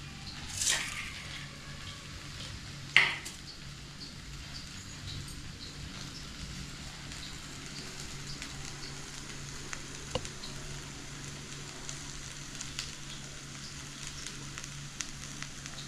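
Oil heats in a pan on the stove for a Tamil lentil-ball curry, giving off a soft, steady sizzle and crackle with a couple of sharp knocks near the start.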